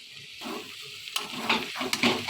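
Cashews and raisins frying together in hot oil for fried rice give a close, steady, crackling sizzle that swells slightly in brief pulses, with no voices.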